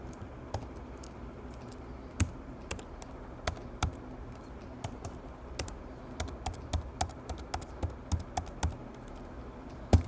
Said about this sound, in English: Are my keystrokes too fast for you, my friend?